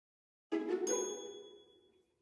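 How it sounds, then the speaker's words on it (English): A single bell ding, struck once and then ringing out with a bright tone that slowly fades, heard alone. "the students had their test just as the bell rang"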